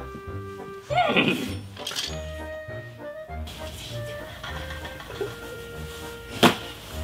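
A horse neighs in a short whinny near the start, followed by soft thumps and scattered background sounds in an otherwise quiet room.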